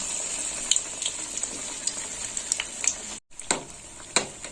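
Leaves fry in hot oil with a soft, continuous sizzle and scattered light crackles, briefly dropping out partway before the bubbling resumes, fairly close and quiet.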